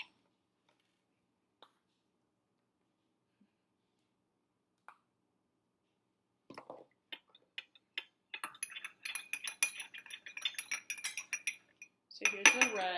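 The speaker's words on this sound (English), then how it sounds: "And then we stir." Utensils stir colored mixtures in dishes, beginning as a few sparse, faint taps and building into quick, close clinking and scraping that grows busier and louder toward the end.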